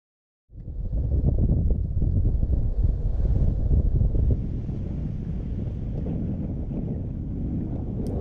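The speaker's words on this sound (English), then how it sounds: "It was a windy day, and the waves had built up from the strong trade winds" Strong wind at sea roars and buffets the microphone in a continuous low rumble, with a faint wash of waves beneath it.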